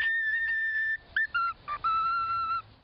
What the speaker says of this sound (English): hear a bird whistling the French national anthem